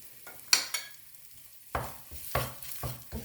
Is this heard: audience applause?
no